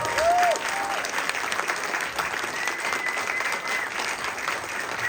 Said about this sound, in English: Let's hit a round of applause for everyone who performed